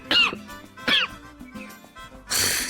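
A person coughs in two sharp, close bursts separated by a short pause, with faint indoor background sounds between them and a noisy rustle at the end.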